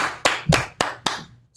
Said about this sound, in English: Clap it up for the Most High.